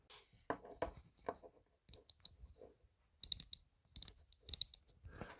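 Adjustment wheel on a Brinyte T28-IR flashlight clicks as it turns, a close, sharp series of detented clicks coming in irregular clusters, some quick runs and some single ticks, with no talking.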